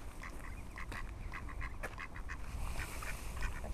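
Several ducks quack repeatedly in a quick, uneven series at a wild bird spot on the Przymorze coast, moderately near and fairly faint over steady broadband background noise, with no talking.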